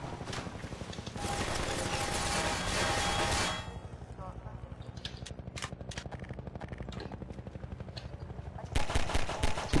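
Gunfire in Half-Life 2 rattles in dense bursts and single shots over a busy game soundscape, with a voice talking at moments between the shots.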